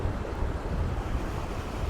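Steady, blustery wind rushes across an open creekside space in Buena Vista, Colorado, a broad continuous roar with soft buffeting and no voices.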